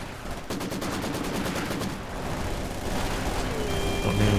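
Rapid bursts of gunfire and explosions around a Maxim gun crew in the Company of Heroes 2 video game, a dense, steady battle din with clustered cracks early on.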